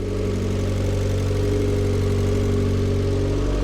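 A car engine idles steadily at close range after an oil cooler installation, a constant loud low rumble with no variation throughout.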